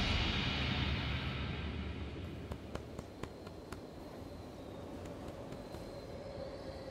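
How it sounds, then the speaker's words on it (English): A train pulls in within the horror game The Outlast Trials, giving a steady loud rumble of rolling carriages with a few sharp metallic clanks and faint squeals near the end, no talking. "Oh, our train has arrived."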